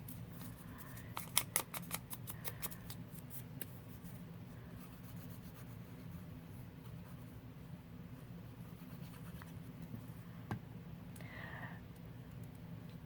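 Paper being ripped by hand while decorating scrapbook pages: a few quick, crisp tearing bursts near the start, then a soft, quiet background with only faint scattered rustles.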